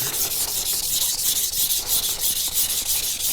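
A knife is sharpened on a Nano Hone 400 grit whetstone, producing a loud, steady, hissing scrape in rapid repeated strokes close by, with no talk.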